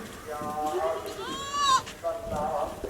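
Goat bleats ring out in a few wavering calls from a goat at a goat farm, close by, with people talking over and between them.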